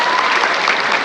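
A short burst of audience applause at a school Isra Miraj commemoration: dense, even clapping from a gathered crowd, continuous for its brief length.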